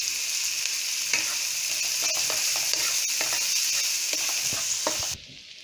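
Onions frying with a pinch of salt in a pan for a yellow pumpkin curry, giving a steady close sizzle with light stirring scrapes throughout, then cutting off abruptly near the end.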